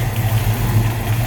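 A 1965 Plymouth Valiant Signet with a Hemi engine idles nearby, giving a brief, steady low rumble with an even, smooth pulse.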